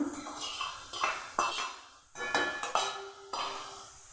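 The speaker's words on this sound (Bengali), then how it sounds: "এবার দিয়ে দেবো ভেজে রাখা আলু" Fried potatoes tipped into a cooking pot of ridge gourd and hilsa fish-head ghonto: a quiet series of clattering knocks and metallic clinks from spoon against pot, in short bursts with brief pauses.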